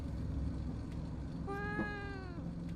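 A cat in the horror video game Fears to Fathom gives one drawn-out meow that rises and falls over a steady low ambient hum.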